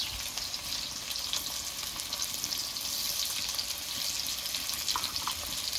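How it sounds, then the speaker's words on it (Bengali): Chopped onions with salt sizzling steadily in a frying pan while being stirred, a continuous close crackle with occasional scraping, no talking. "এবার পেঁয়াজটাকে একটু নেড়ে চেড়ে হালকাভাবে ভেজে নেব"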